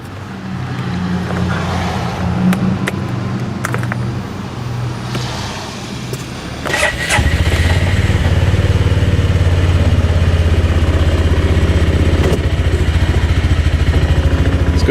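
A 2023 Argo Magnum XF 500 side-by-side idles close by, a low steady engine rumble that grows louder and fuller partway through and holds evenly, with a few brief clicks and knocks over it.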